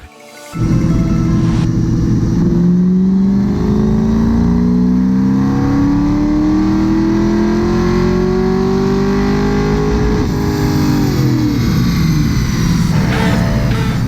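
A 1965 Ford Mustang with a 408 stroker small-block Ford engine on pump gas roars on a dyno, a loud sustained pull whose pitch climbs steadily before dropping off near the end.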